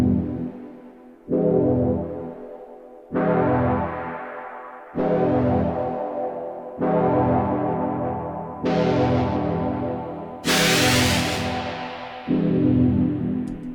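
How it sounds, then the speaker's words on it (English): A dub techno chord stab made with Ableton Wavetable repeats about seven times in a slow pulse, each hit swelling and then decaying. The chords are loud, dense and reverberant, and the last hits brighten as the filter opens. "Today I'm gonna show you how to make dubcore techno that sound like this."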